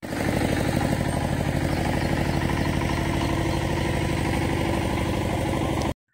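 A farm tractor engine chugs steadily and loudly in a rhythmic, rattling idle for several seconds, then cuts off abruptly at the end, with no one speaking.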